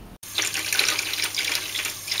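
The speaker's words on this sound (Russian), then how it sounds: "Набираю холодную воду вначале, чтобы смыть разметку." Cold water runs from a tap into a basin in a steady, continuous splashing rush. It starts abruptly after a brief silence and stays close and fairly loud throughout.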